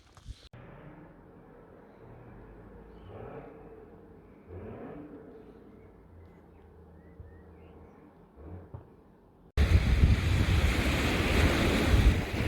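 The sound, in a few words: waves and wind on Monmouth Beach, Dorset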